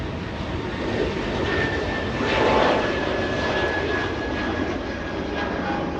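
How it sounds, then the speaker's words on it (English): A China Eastern Airbus A330 taxis to the gate at Los Angeles International Airport, its engines giving a steady whining rumble with a thin high tone, swelling briefly partway through, heard at moderate distance without talk. "First time I've seen China Eastern, the A330, go to the gate instead of the parking area."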